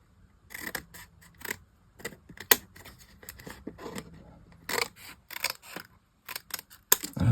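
Scissors snip through a piece of card in a string of short, crisp cuts up close, with little rustles and handling noises between the snips.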